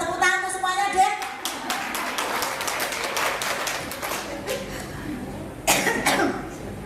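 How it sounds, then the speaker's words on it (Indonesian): An audience in a women's religious class breaks into scattered hand clapping, a burst of irregular claps with a coughing sound early on and another clap flurry near the end. "Pinter, tepuk tangan semuanya deh"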